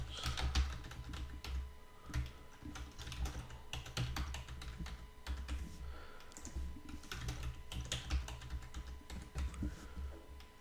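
Typing on a computer keyboard to enter a password while configuring a Cisco SD-WAN lab router, with steady bursts of close keystrokes and brief pauses throughout.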